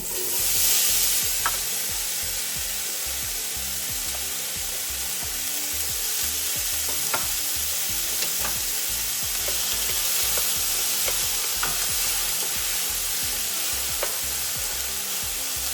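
Onions sizzle steadily in a hot pan for taco salad, a continuous crackling fry with occasional sharper pops and soft stirring scrapes, no voices.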